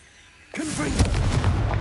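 A Confringo blast spell goes off in a wizard video game, a sudden loud booming burst that sets off a dense, rumbling, crackling explosion lasting to the end.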